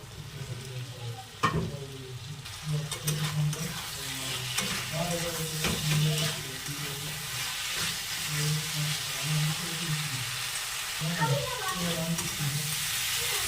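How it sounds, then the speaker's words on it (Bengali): Fried potatoes stirred into a spiced masala with chillies and peas in a pan, a steady loud sizzle and hiss with repeated scraping strokes of the spatula, close up and continuous. "এবার দিয়ে দেবো ভাজা আলুগুলো"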